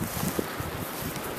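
Steady, broadband wind roars during a blizzard, a constant buffeting rush close to the microphone with no voices.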